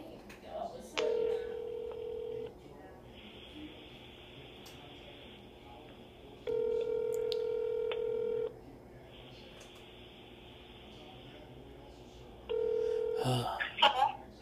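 A phone being dialed gives steady keypad and ringback tones in alternating bursts, each a couple of seconds long with quieter gaps between. They sit over a low room hum, and a brief clatter comes near the end.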